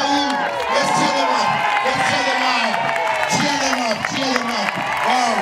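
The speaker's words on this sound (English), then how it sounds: "Let's cheer them up." At a school sports day, a crowd of children and adults cheers and shouts for Team Red, a loud, sustained roar of overlapping excited voices with whoops and bursts of clapping mixed in.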